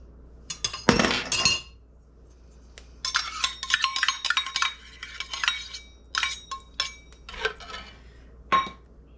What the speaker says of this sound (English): We're gonna take a half a cup of this buttermilk and mix it in.